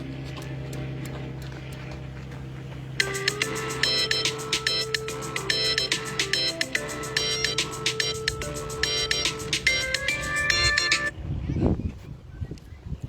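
Telephone ringtone playing a loud, repeating electronic melody of bright tones for several seconds before cutting off, with faint background noise around it.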